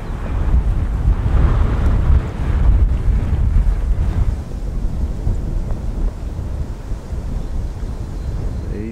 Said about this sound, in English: Dead kitty's probably knocking the wind noise down, but it's probably 20-mile-an-hour breeze.